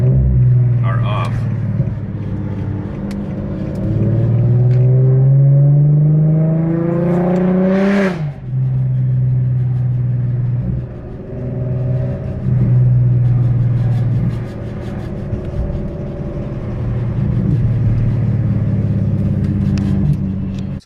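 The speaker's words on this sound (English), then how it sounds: "So I drove around." A car fitted with rebuilt three-piece wheels and misaligned rear toe drives around, its engine rumbling steadily with a rising rev swell midway, heard from inside the cabin under continuous loud road noise.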